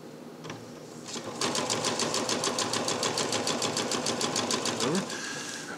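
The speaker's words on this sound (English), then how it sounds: "I'm going to go ahead and sew along that black line on the other side from where we started" A sewing machine stitches along a line on a DIY bridge underquilt, giving a steady rapid run of needle clatter for several seconds before slowing and stopping, close and loud over a faint room background.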